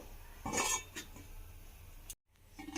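A lid goes onto a cooking pot with one clear metallic clink and a rattle, followed by a couple of lighter taps and quiet kitchen background.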